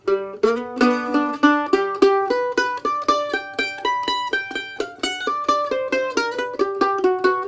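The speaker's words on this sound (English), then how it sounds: "Or you could put a fiddle bow accent on it," Bright plucked Gilchrist mandolin notes in a quick, steady rhythm, each note swelling with a bowed, fiddle-like accent, played alone and close.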